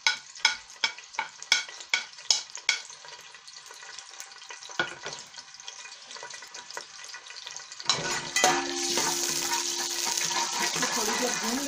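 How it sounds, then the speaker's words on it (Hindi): Cumin seeds drop into hot oil in a pan while cooking aloo gobi, a Punjabi potato and cauliflower dish, starting with a string of sharp taps and stirring clicks, then bursting into a loud, steady crackling sizzle. "ये गर्म हो गया, इसमें जीरा डालेंगे"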